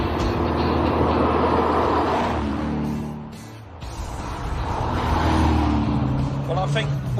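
Car driving along a road, a steady engine and road-noise rumble that dips briefly then swells again, heard from inside or close by with no voices.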